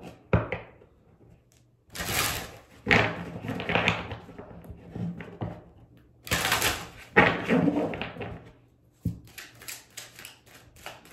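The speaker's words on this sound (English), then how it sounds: "One more shuffle." Tarot cards are shuffled in several bursts of riffling and rustling, close and fairly loud, separated by short pauses with light tapping of the deck.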